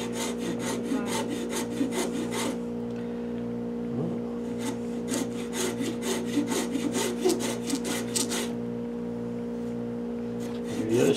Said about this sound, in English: You gotta be very careful with this rasp. It takes it off really fast.